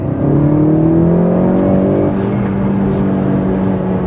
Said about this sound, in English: We're just going to see how it pulls in second gear.